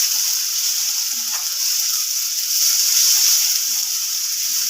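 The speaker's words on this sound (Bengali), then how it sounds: "এবার এখানে আদা রসুন বাটা আর একটা কাঁচা লঙ্কা সাথে বাটা দিয়ে দেবো। এটাও একটু ভেজে নেবো হালকা করে।" Ginger-garlic and green chilli paste fries with browned onions, giving a steady hissing sizzle and a few soft scraping touches from a spatula. It sounds close, with no speech.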